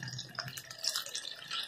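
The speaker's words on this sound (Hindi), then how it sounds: "थोड़ा सा पानी और ऐड करूंगी मैं इसमें।" Water being poured from a glass into a cooking pot for broccoli stem soup, a soft, quiet splashing trickle that runs steadily with faint drips.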